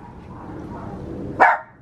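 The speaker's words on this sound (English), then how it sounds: "you heard another dog barking, huh?" A dog gives a single short, sharp bark near the end, close by, after a stretch of low background noise.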